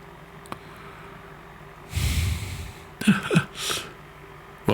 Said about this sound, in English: I realized I'm just breathing into the microphone.